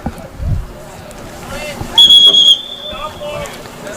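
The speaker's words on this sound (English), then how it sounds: "And a whistle's blown." Referee's whistle at a high school boys' soccer match, one sharp half-second blast over crowd and field noise, with commentators talking around it.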